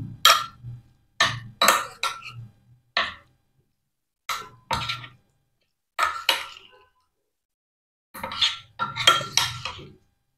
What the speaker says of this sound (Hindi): अब इसी में मैं डाल दूंगी बेबी कॉर्न, इसे मैं डाल देती हूँ। इसे भी अच्छे से मिक्स करूँगी।